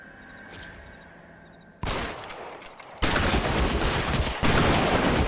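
Gunshots in L.A. Noire: a sudden loud burst of gunfire, then a heavier sustained volley of rapid shots that grows louder toward the end, with a quiet lead-in before it.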